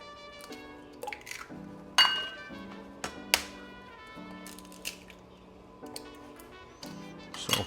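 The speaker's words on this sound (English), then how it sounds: "Let's crack your eggs, break them on a hard surface." Eggs cracked against a hard surface for waffle batter, heard as a few sharp taps and clinks spaced through the clip over a steady musical background.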